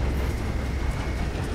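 Steam locomotive train rolling on rails in Red Dead Redemption 2, a slow coal-fired engine; steady loud low rumble and rolling wheel noise throughout, with no talk.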